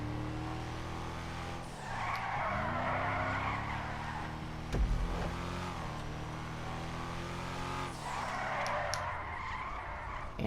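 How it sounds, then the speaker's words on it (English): A truck skids and spins out on a drift course in a racing video game, with a droning engine rising and falling beneath two long bursts of tire squeal and a brief thump midway. "It's very easy to spin out in this truck."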